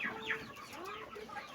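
Chickens cluck softly at close range, a few short overlapping calls in quick succession over a quiet background, no talking.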